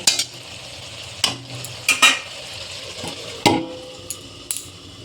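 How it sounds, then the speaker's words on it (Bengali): Brinjal frying in oil in a pan gets stirred, with a bed of sizzle under several sharp scraping clinks of the utensil against the pan, spaced irregularly. "বেগুনটাকে আমি একটু নেড়ে চেড়ে একটু ঢাকা দিয়ে দেব।"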